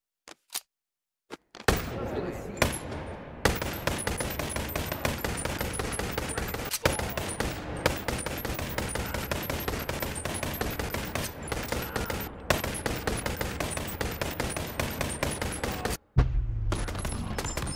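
SIG P350 pistol fired in the VR game BoneLab, a few isolated shots and then a long, rapid, steady string of sharp close reports ending in a short pause and a final shot.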